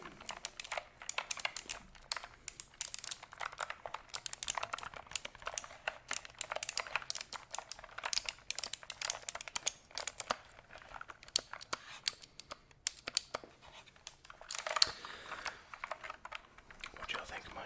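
Rapid, clicky typing on a wired LED-backlit computer keyboard, close and continuous with uneven bursts of keystrokes and brief pauses, and no talking.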